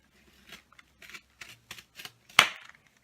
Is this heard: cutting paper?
yes